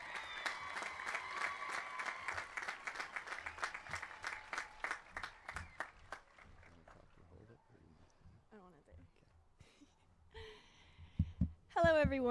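A large crowd at a high school graduation ceremony applauds, dense clapping at first that thins into scattered claps and cheers, then fades as a speaker starts talking near the end.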